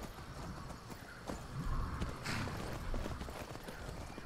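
Horse hooves clip-clop steadily along a road in the video game Skyrim, with a whinnying neigh rising partway through; close and fairly loud, no talking.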